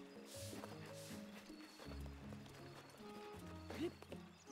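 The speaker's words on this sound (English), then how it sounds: "That's a donkey." A donkey trots in the video game Breath of the Wild, its soft, faint hoof clip-clop running under steady game music and ambience.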